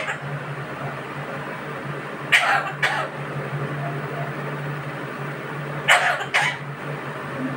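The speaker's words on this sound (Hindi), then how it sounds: "खांसी आ रही" Two pairs of short, sharp coughs break through a steady indoor hum, each pair a quick double burst a few seconds apart, close and moderately loud.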